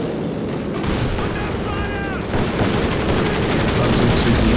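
Tank cannon fire, including a Comet tank, in a Company of Heroes 2 battle, dense booming shots and explosions in rapid succession with a whistling projectile sound, under a caster's excited commentary.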